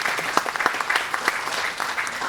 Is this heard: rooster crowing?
no